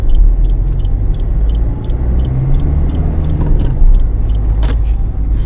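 A car engine pulls away up a slight incline as the clutch is gradually released. It makes a steady, loud, close low rumble with faint mechanical ticking on top.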